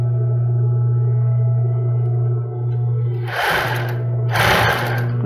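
A straight-stitch sewing machine stitches a backstitch on a double-strand thong underwear seam, with a steady low motor hum joined near the end by two short bursts of rapid mechanical clatter.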